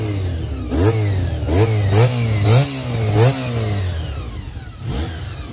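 A BMW R1150 GS motorcycle engine revs up sharply five times in quick succession, each pitch rising and dropping back, loud and close.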